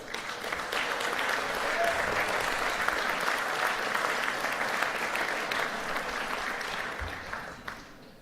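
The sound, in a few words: applause for award inductees at ceremony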